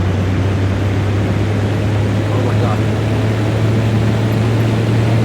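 Steady loud drone of an airplane engine at full throttle, a simulated aircraft in Unreal Engine 5, a constant broadband roar with a low hum throughout, and a person briefly exclaims over it.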